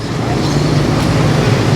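A bus moving through Hanoi street traffic, a loud, continuous low engine rumble and road roar close by, with no speech.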